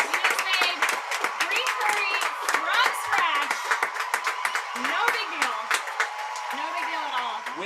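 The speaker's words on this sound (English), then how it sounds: "give yourself a round of applause" A small cooking-class group clapping together after making green curry, quick bursts of hand claps mixed with lively, overlapping chatter and laughter nearby.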